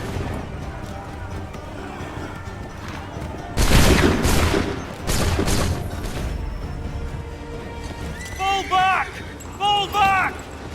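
A massed musket volley from Assassin's Creed III erupts as a loud cluster of overlapping shots, with a second ragged burst following. Shouted commands and battlefield voices carry on around the gunfire.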